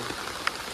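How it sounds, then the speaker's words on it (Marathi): Rain beginning to fall outdoors in a village setting, a brief close patter of drops on a surface with a single sharper drip, steady and fairly loud with no talk. "पाऊस सुरू झालेला असा"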